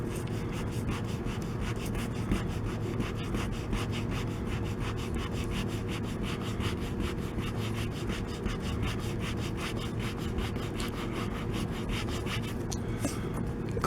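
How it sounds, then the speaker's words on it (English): Sandpaper rubbed by hand over plastic body molding on a Tahoe to clean up gouges; a continuous close, rhythmic scratching with fast repeated back-and-forth strokes, steady in level throughout. "The sandpaper does a pretty decent job."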